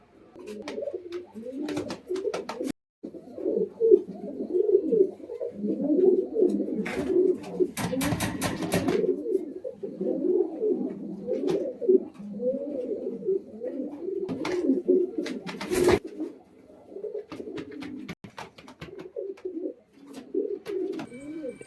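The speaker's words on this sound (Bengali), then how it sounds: "এই যে এটা হচ্ছে মাদি পায়রা" Madras high-flying pigeons coo almost continuously in low, throaty rolling calls, with occasional sharp clicks and rustles nearby.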